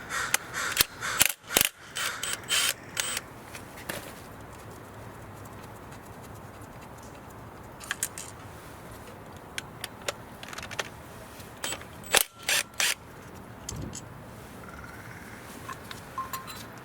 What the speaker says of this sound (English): we have to unscrew these two bolts and remove the bracket